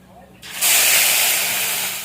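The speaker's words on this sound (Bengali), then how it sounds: "এবার এর মধ্যে দিয়ে দিচ্ছি যে মশলাটা বাটলাম, মশলা বলতে পেঁয়াজ, কাঁচা লঙ্কা, রসুন" Onion, green chilli and garlic paste hit hot oil in a pan with a sudden loud hiss that swells at once and holds as a steady, close sizzle, easing only slightly toward the end.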